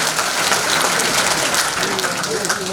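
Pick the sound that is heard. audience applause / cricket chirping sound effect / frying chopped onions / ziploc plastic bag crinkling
audience applause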